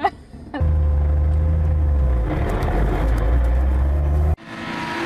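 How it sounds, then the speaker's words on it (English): A Jetta G56 GTA race-spec car rumbles with a deep, loud engine drone close by, building as it pulls away, then cuts off abruptly. "It is a race spec car that we run in the US."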